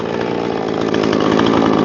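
A Husqvarna chainsaw cutting logs, its engine held at a loud, steady high-revving snarl close by, with the pitch rising slightly as the chain bites in.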